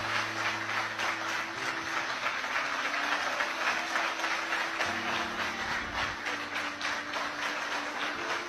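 A crowd applauds steadily, a dense wash of clapping that holds throughout, with a faint low hum underneath.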